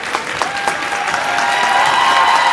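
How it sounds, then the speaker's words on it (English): Laconia fans in a high school basketball gym clap for their Spartans at the end of the half in a Division 3 sectional final, a loud, sustained mass of applause with cheering mixed in that swells toward the end. "These Laconia fans are starting to clap for their Spartans here at the end of the half"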